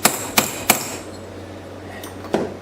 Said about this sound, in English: I'm going to straighten them out a little bit here with a hammer